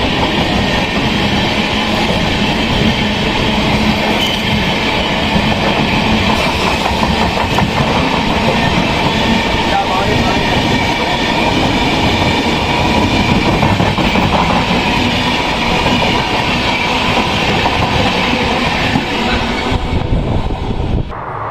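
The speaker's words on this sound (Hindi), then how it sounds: "तो इस ट्रेन को आगे निकालने के लिए हमारी ट्रेन को है मुरैना में रोका हुआ है।" A passing train rolls by at Morena station while another train stands stopped, giving a loud, continuous rumble and clatter of wheels that lasts throughout with no talk.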